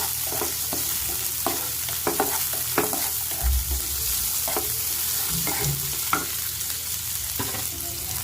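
Ginger and garlic fry with onions in a kadai for a mushroom curry, a continuous close sizzle with repeated scraping stirs and clinks of a spoon against the pan.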